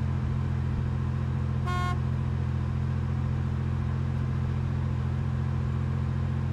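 A single short car horn toot in Arma 2 DayZ cuts briefly through a continuous loud, low vehicle engine hum that carries on steadily afterward.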